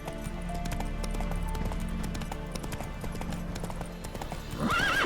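Roach, a horse in The Witcher 3, trots along with a steady clip-clop of hooves and a whinny, set under continuous game music, with a rising swell of sound near the end.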